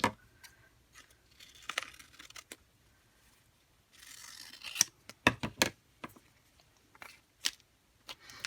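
Scissors snip through vinyl wrap in a series of close, crisp cuts, sparse at first and then quicker in a run of sharp snips, with faint rustling between them.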